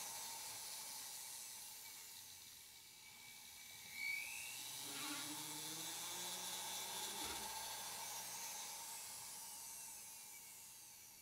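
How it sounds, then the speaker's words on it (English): A flex shaft machine drills rivet holes, giving a faint, thin whine that rises and dips over a hushed workshop background. "Using my flex shaft machine, I drill 3 holes for the rivets."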